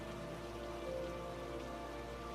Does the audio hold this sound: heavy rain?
yes